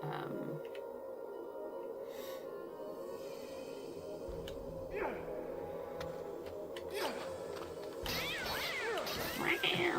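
Cats meow in the Heliopolis level of the video game Sphinx and the Cursed Mummy, several short cries at moderate volume amid game sounds and crashes, with someone talking over them.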